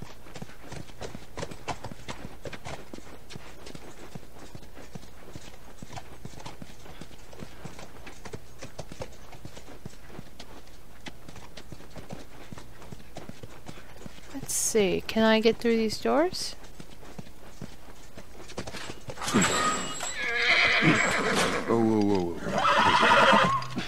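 Horse hooves clop steadily in The Last of Us while people talk over them, with a couple of loud whinnying neighs breaking through near the end.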